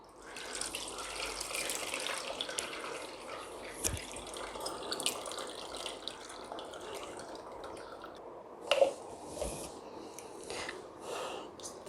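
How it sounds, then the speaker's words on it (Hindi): Water drains and trickles steadily through cotton cloth as chhena is strained, a soft continuous splashing with occasional drips and a brief louder slosh near the end. "अब हम इसे छानते हैं।"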